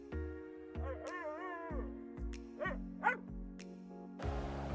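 A little dog barks and yips in a children's story retelling of The Wizard of Oz, several short bow-wow calls over a sustained musical backing, with a brief whimper-like call in between.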